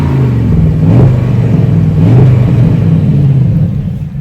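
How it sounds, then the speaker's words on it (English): A Porsche Panamera Turbo with its stock exhaust revs briefly against a soft limiter, a steady close-up engine rumble that swells twice before easing off. "I'll give it kind of a little bit of a rev"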